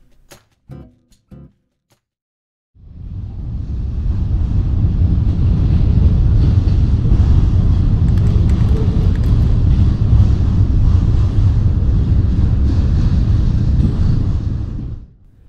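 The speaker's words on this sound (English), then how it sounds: "the two trains that passed by and shook the ground we slept on" A train rumbles past close by a riverside campsite in Ontario, a loud, steady low roar building after a few seconds of quiet and holding for about twelve seconds before fading.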